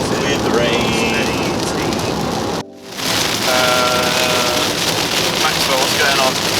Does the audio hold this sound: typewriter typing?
no